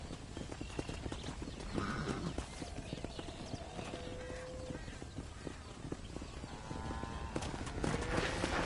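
Rhythmic clip-clop of horse hooves over a busy, noisy game-like backdrop, with brief faint voices.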